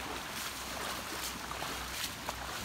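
Floodwater flowing during Hurricane Florence, a steady broad wash of moving water with faint splashes and trickles, fairly quiet and continuous throughout.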